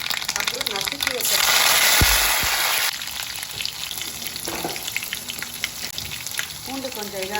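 Fenugreek seeds, curry leaves and crushed garlic tempering in hot oil, giving a loud, steady sizzle that swells mid-clip and then settles into a lighter crackle, with occasional utensil clinks and brief voice sounds.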